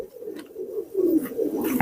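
Pakistani teddy pigeons and their young cooing steadily, overlapping low throaty coos rolling continuously and swelling midway, close by and clear with no talking over them.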